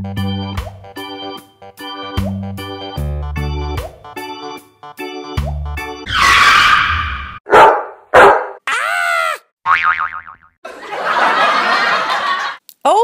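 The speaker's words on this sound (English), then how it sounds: "a car skidding and a dog barking?" Comedic sound effects of a car skidding and a dog barking play in a children's octopus puppet show, with rhythmic musical stabs, a long tire-screech sweep, sharp bark-like bursts and squealing effects in quick succession.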